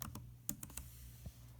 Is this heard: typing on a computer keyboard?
yes